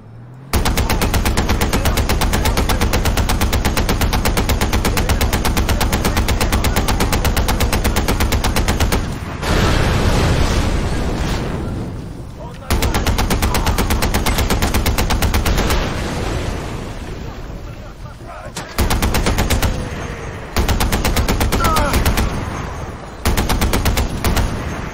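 Long, loud bursts of rapid machine gun fire in the video game Far Cry 4, with a few brief gaps between sustained strings of shots.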